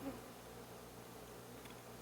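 Healthy young honey bees buzzing inside a hive, a quiet, steady, close hum with no pauses.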